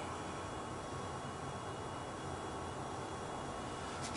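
A CNC machine spindle runs at a steady high speed, a dense, constant whirring drone filling the whole stretch at even loudness with no pauses.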